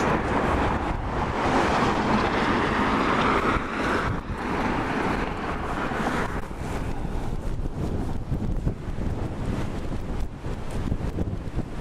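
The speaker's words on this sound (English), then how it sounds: "Wind started again, so it got very windy." Strong wind blows by the lake along Lakeshore Boulevard West in Etobicoke, Toronto, roaring steadily and buffeting the microphone throughout with a constant, heavy rumble.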